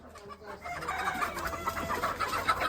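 A chicken clucking close by in a series of low, throaty calls that build after a quiet start and carry on without speech.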